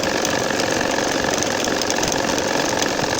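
A domestic sewing machine runs steadily and continuously, stitching straight lines through a nakshi kantha quilt, with a dense mechanical whir close to the microphone and no talking.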